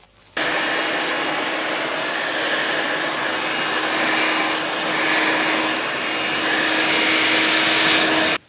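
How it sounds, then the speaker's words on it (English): Hair dryer blowing while drying wig hair, switched on abruptly into a loud steady roaring whoosh with a constant whine, wavering slightly as it moves, then cut off at the end. "So now I'm done blow drying the hair, and we're gonna finish up the lace."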